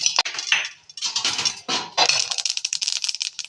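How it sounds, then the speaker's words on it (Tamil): Sesame seeds popping while roasting in a covered pan, a dense scatter of sharp crackles and ticks in irregular bursts, close and fairly loud with no voices. "எள்ளு பொரிஞ்சிடுச்சு."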